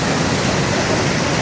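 Floodwater rushing through a breached dam on a flooded road, a loud, steady broadband roar with no break, close and continuous.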